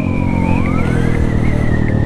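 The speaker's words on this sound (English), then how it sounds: "the fire truck now." A fire truck passing on a city street, its wailing siren rising and falling over loud, close engine and road rumble.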